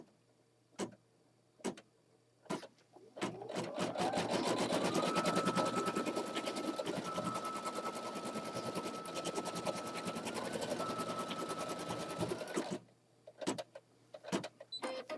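A computerized embroidery machine stitches an applique placement line with a fast, steady, rapid-fire whirring rattle. It runs for about nine seconds, framed by a few isolated clicks before it starts and after it stops.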